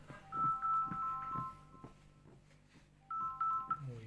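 A mobile phone's ringtone announces an incoming call as a short melodic beeping phrase that plays, pauses and then repeats, moderately loud over a low background.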